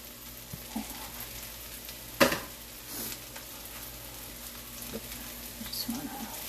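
Sliced mushrooms sizzle and fry in a pan for chicken marsala, a soft, steady crackle with a sharp clatter partway through and light scraping and stirring noises after it.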